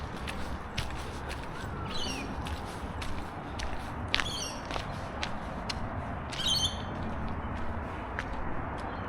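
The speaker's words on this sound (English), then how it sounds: "Hear the birds chirping in the distance." Birdsong carries from a distance in Australian bushland at golden hour, a few brief high chirps and trills scattered over a steady outdoor background, with footsteps along the walk.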